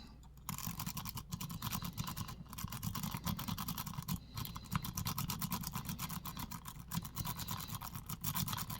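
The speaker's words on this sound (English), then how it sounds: "So just nice and light scrubbing of those pins." A lock pick rake scrubbing lightly across the pins inside a lock, giving a steady run of fine, rapid scratchy clicks for several seconds, close up and with no talking.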